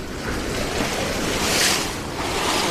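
Ocean waves rolling onto a beach near a campground, a steady broadband wash with a swelling surge midway, loud and close with wind rushing over the microphone.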